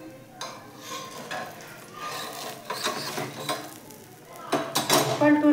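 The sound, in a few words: uttapam being flipped on a sizzling pan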